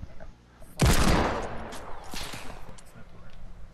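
Loud burst of video game gunfire erupts suddenly and decays into a rumbling tail, with a few scattered shots afterward.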